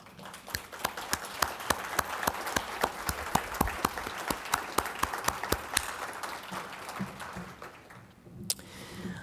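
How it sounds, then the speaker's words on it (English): An audience at the NITRD 30th Anniversary Symposium applauds the program's past and present directors and deputy directors as they stand. Dense, steady clapping carries on for about eight seconds, then thins out and fades near the end. "can we give you a round of applause?"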